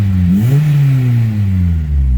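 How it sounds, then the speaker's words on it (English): A Honda Civic EP3 Type R engine revs up once and holds a steady higher pitch before easing off, a close, loud mid-range exhaust note heard alone. "let's give it a bit of a rev"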